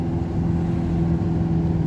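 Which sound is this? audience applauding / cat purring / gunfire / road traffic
road traffic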